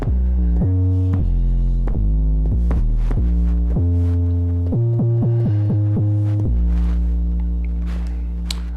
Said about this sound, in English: I might have to save this 808 because I like it